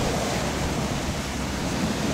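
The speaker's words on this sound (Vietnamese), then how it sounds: "chiếc tàu biển đang ra khơi nha các bạn. Sóng rất là lớn nha." Big ocean waves around a ship heading out to sea in stormy weather, a continuous loud rushing surge mixed with wind buffeting, steady and unbroken throughout.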